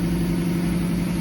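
Car engine idling through a new stainless steel exhaust system, a loud, steady low rumble with an even throb, close to the tailpipe.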